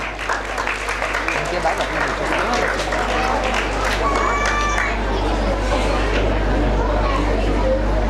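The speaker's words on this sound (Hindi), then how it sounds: "जोरदार तालियां भाई सुरेंद्र के लिए" A crowd including children applauds loudly for Surendra at a gathering, steady dense clapping mixed with chatter and kids' voices, with a low constant hum underneath.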